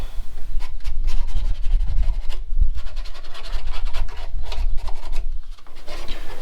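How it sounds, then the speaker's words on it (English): Close, loud rasping of 400-grit sandpaper rubbed back and forth over plastic edges of an Arrma Kraton RC car in quick irregular strokes, continuous throughout with no voices. "I'll probably use some 400 grit sandpaper on the edges just to remove any"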